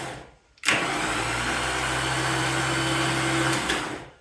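A Ramsey DC9-1 electric winch starts with a sharp click and runs with a steady, loud motor whine and gear hum for about three seconds, then winds down to a stop.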